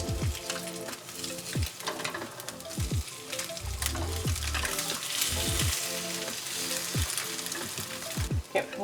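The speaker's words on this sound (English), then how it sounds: "I'm using the same longanisa grease to cook them in there to give it more flavor." Eggs fry in leftover longanisa grease for chilaquiles in poblano sauce, a steady loud sizzle and crackle with scraping stir sounds and occasional clatter throughout.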